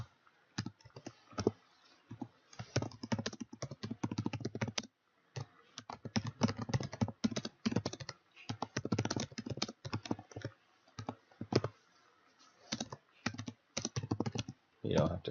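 Computer keyboard typing in close, irregular bursts of rapid clicks with short pauses, continuing throughout while an exam solution is worked through in a spreadsheet.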